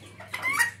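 A Serama bantam hen, broody and sitting on eggs on a farm, gives a single short, soft cluck in a brief moment with no one talking.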